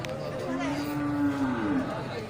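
A jumbo cow at a livestock market near Geurugok gives one long, deep moo that rises and then trails off, over a low murmur of the busy market.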